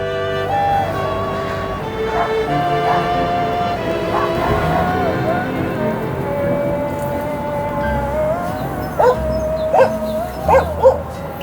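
A dog barks in a hillside village in Albania, a few short yips and barks late on, heard faintly over the long melodic wail of a Muslim call to prayer drifting from a distance.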